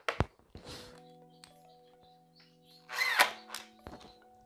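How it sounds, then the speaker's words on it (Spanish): A power driver sets a screw into a solid wood shutter in short whirring bursts with a steady motor hum between them, plus a few close knocks, in a quiet room. "atornillo el de abajo"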